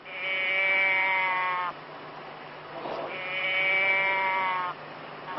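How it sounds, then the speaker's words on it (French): A cow-moo toy box gives two drawn-out nasal bleating moos, each about one and a half seconds long, separated by a short pause, close and clear with no talk. "C'est les cordes vocales d'une vache mise dans une petite boîte."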